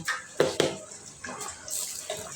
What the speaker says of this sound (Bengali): পরিমাণ মতো দুধ দিয়ে জল দিয়ে দিলাম